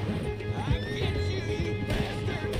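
A horse whinnies in Red Dead Redemption 2 amid a loud, busy gunfight mix, the neigh's rising and falling cries sitting over heavy low rumble and scattered impacts for a couple of seconds.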